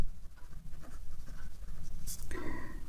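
Pen writing on paper during a Bengali math lesson on property value, soft scratchy strokes close up, with a brief louder rustle near the end.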